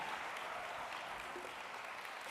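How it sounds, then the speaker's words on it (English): An audience at a spring prize ceremony gives a short, quiet round of applause, a steady patter of clapping that holds evenly for a couple of seconds. "A round of applause for all these gorgeous people."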